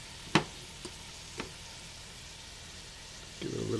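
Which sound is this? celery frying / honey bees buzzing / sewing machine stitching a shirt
celery frying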